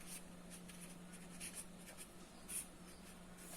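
Chalk or marker scratching across a board during a physics lesson, a series of faint rhythmic strokes with short scraping bursts, quiet against a low electrical hum and no talk.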